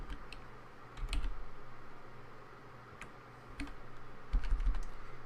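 Clicks from a computer keyboard while typing a program name into a Windows start screen search, in short bursts of close, crisp keystrokes with pauses between them.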